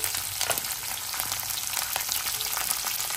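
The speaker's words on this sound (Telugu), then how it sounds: "ఇప్పుడు పచ్చిమిరపకాయలు, కరివేపాకు వేసుకున్నాము. ఎండుమిర్చి వేసుకున్నాము." Green chillies, curry leaves and dried chillies fry in hot oil for lemon rice, giving a loud, steady, dense sizzle with small crackling pops throughout, close up.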